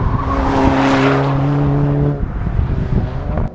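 A race car, either an Alfa Romeo 4C or a tuned Lotus Exige, cornering on a track: a loud, close engine drone holds steady pitch, then drops away as it comes off the throttle.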